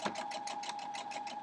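A domestic sewing machine runs in a short, even burst of rapid stitches while sewing quilt block seams for an 8-point star block, its motor whirring steadily close by.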